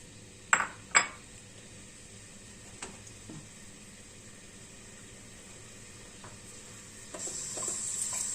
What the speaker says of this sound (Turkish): Soğanımız güzelce Karıştıra karıştıra kavuruyoruz